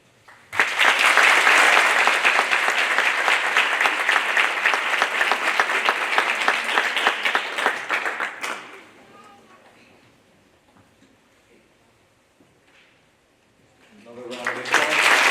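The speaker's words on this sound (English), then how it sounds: "Another round of applause." An audience at an elementary school D.A.R.E. graduation claps in a loud burst of applause that fades out, leaving near quiet before clapping rises again at the end.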